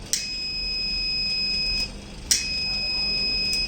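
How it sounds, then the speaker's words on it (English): Buzzer on an Arduino smart building system's fire sensor board, two sharp high-pitched electronic beeps, each held for nearly two seconds with a brief gap between, close and clear over faint background hum. "if any fire will be detected, then it will give a fire alert through this buzzer board."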